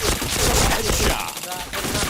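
Bursts of automatic gunfire in a shooter video game, dense and loud throughout with a short lull near the middle, a voice faintly mixed underneath.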